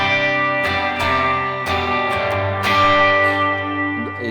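Electric guitar played through compressor, reverb and an added drive pedal, giving slightly gritty sustained chords with a few strummed attacks, loud and alone without talk.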